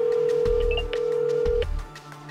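A telephone rings out while calling a mobile number, a steady tone with short thudding pulses, close and alone with no talk.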